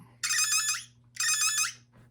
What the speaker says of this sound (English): it's making lots of beeping sounds